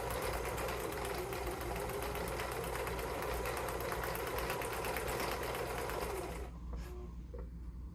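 A home sewing machine runs at a steady, rapid stitching rhythm for about six seconds, then stops abruptly, leaving faint clicks and quiet room sound.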